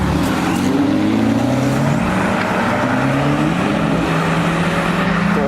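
A Porsche 911 Carrera S Performance Edition engine runs loud and steady nearby, its drone rising and falling in pitch as it revs, with other car noise around it.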